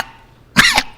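One short, harsh cough bursts out close to the microphone during a Sunday church sermon, in an otherwise quiet moment.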